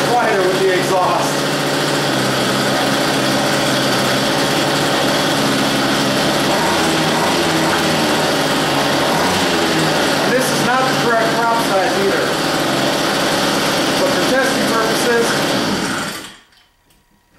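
A small high-revving gas model aircraft engine fitted with an exhaust buzzes steadily and loudly for about sixteen seconds, its pitch wavering slightly, then cuts off abruptly into silence.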